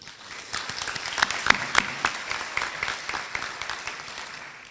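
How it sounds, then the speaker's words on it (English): A school rally audience applauds teachers, giving them a sustained, crowded round of clapping with a few sharper individual claps standing out before it gradually thins. "Please give yourself a round of applause"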